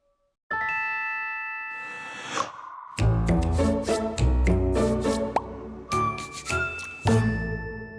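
Bright bell-like dings and tinkling chimes ring in a string of clear tonal strikes, some overlapping, loud and close with no voices over them.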